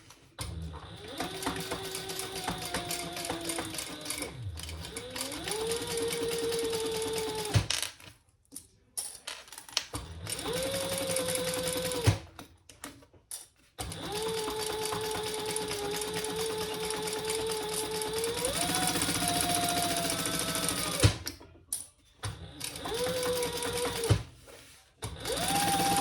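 A sewing machine stitches across a fabric zipper end for a fanny pack wristlet, whirring in several long runs separated by brief pauses, close and clear.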